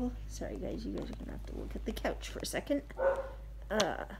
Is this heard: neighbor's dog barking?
yes